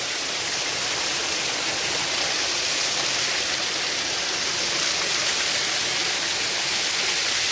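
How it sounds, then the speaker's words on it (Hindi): Cold mountain stream water flowing down from a lake above the Siran valley, a steady, loud rushing wash with no breaks and no voices. "ये जो पानी है ये ऊपर लेक से आ रहा है और ये पानी नीचे जाके नीचे सिरन से मिलता है"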